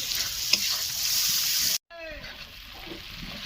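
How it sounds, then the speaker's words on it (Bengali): Tomato paste being sautéed in a pan for chicken do pyaza, with steady loud sizzling and stirring that break off for a moment in a brief silence, then return quieter. "এটি ভালো করে কষিয়ে নিতে হবে যাতে টমেটোর কাঁচা গন্ধটা না থাকে।"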